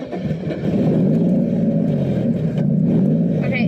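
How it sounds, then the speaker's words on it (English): A struggling drift car engine held at high revs so it won't stall, a loud, steady, rough drone that climbs after the first second and holds strong with slight wavering throughout. "it'll stay on, but I have to like really give it RPM"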